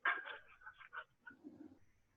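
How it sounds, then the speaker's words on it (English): A young Springer spaniel gives short whimpering yips and low vocal sounds at close range, faint and brief, with no one speaking. "Your dog knocked the phone over, Scott?"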